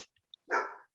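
A single short, sharp dog bark comes through close and fairly loud after a couple of tiny clicks, then quiet.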